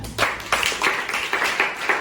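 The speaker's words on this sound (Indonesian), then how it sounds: "Ahsanta, beri tepuk tangan." Rhythmic group clapping from a seventh-grade classroom during an Islamic ethics lesson, a series of evenly spaced claps at close range with no talk.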